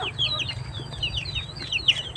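Backyard chickens cluck and chirp in short repeated calls close by, with faint outdoor background noise beneath them.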